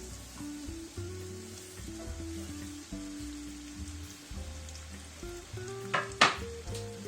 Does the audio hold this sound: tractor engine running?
no